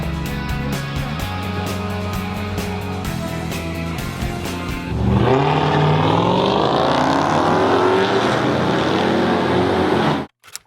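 A 2016 Toyota RAV4 SE with a 2.5-liter four-cylinder drives along, its engine and road noise steady inside the cabin, then swelling louder midway as it accelerates before cutting off abruptly.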